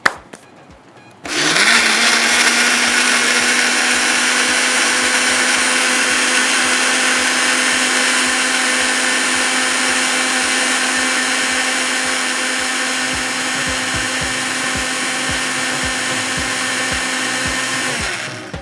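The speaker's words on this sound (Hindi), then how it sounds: "अब ब्लेंडर को चलाएंगे बहुत अच्छे से।" A blender switches on after a moment of quiet and runs loudly and steadily for a long stretch, its motor whine holding a constant pitch.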